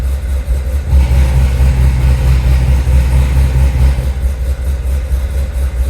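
A loud, throaty Corvette C7 engine with an open dual-mode exhaust idles with a deep, steady rumble, rising slightly at moments, close by and without any talk.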